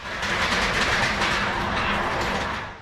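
A Romanian overnight train rolls along the rails with a steady rumble and faint rhythmic clacking, heard from inside a swaying carriage.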